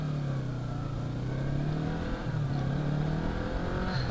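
A Yamaha R3 motorcycle engine drones and revs while accelerating on a street ride, a steady close mid-pitched hum with a slight dip and climb in pitch midway, no talking over it.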